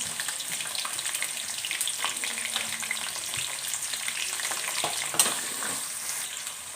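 Green chilies, finely chopped onion and curry leaves fry in a pan for vegetable poha, sizzling steadily with occasional stirring scrapes, close and continuous with no talking.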